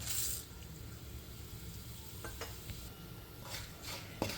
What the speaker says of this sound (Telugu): ఇప్పుడు బిర్యానీ మసాలా ఫ్రై చేసుకుందాం. అలానే జీరా.